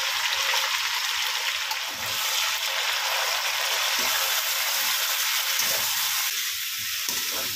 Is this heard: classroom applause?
no